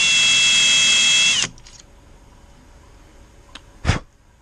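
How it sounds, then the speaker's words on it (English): A power drill whines steadily for about a second and a half starting a hole for a small-engine fuel pump, then stops, followed by quiet handling and a sharp knock. "drill down through it a bit till I get a hole started"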